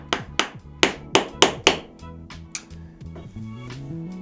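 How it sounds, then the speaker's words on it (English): A screwdriver hammered against a crushed nut while changing a motorcycle chain and sprockets: six sharp metallic taps in quick succession, then a few softer knocks, close and clear. "it's just a matter of getting a screwdriver and tapping this out."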